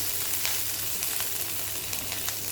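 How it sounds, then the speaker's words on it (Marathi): Green chilies frying in a little oil over a low flame for a fasting-day chivda, giving a steady, close, even sizzle with faint crackles and no talk. "अगदी थोड्या तेलामध्येच मिरची ही तळून घ्यायची आहे"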